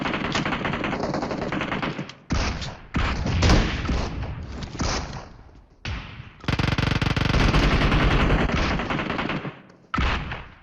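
Gunfire from the mobile battle-royale game PUBG Mobile comes as loud, dense automatic bursts separated by brief pauses, heavy and close, with shots seeming to come from all around.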